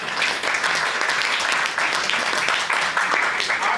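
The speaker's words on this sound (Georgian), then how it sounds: "აი ამას აპლოდისმენტები უნდა" An audience at the launch of a literary magazine's new issue gives a dense, continuous round of applause that fills the whole stretch at steady volume.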